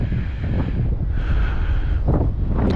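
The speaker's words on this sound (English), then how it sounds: "So there we go, Swift 2100 on a fairly windy day." Strong gusty wind buffets the microphone during a demo flight of an XFly Swift 2100 glider, a continuous loud roar with surging bursts.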